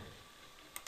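Two quick, crisp clicks of a key on a computer keyboard being pressed, close and clear over a quiet background hum, spaced just over a tenth of a second apart at the very end.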